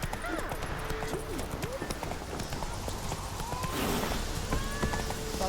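A horse gallops in The Witcher 3, hooves pounding in a steady rapid rhythm throughout, close and fairly loud, while voices talk over the hoofbeats.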